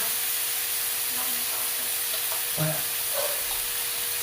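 Bulang vegetables with crushed tomato being stirred in a hot frying pan, giving a constant loud sizzle and hiss with a few soft scrapes and clacks of a spatula, close-up and with no talking.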